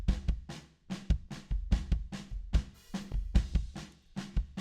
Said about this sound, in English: I'm going to mainly concentrate on this kick here